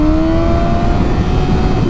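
A motorcycle fitted with a cheap aftermarket eBay exhaust revs loudly and close by, its engine note rising steadily over two seconds.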